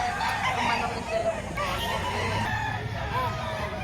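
Rooster crowing amid a busy Philippine livestock market, with a steady crowd murmur and background chatter underneath; the crow is not clearly separated from the noise.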